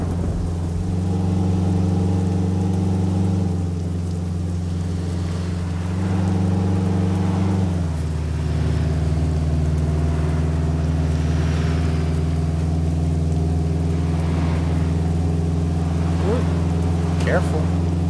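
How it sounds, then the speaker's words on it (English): A Peterbilt 351 truck hauling an extra-large heavy trailer in Euro Truck Simulator 2 gives off a deep, steady engine drone. Its pitch drops with a shift midway, then it hums on evenly. "I'm enjoying the sound of the truck and the look of it with that extra big, heavy trailer attached to it"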